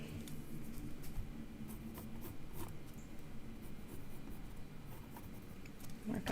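Faint, dry scratching of a pen or pencil marking on paper for a mixed media artwork, short strokes repeating quietly against a soft steady room hiss.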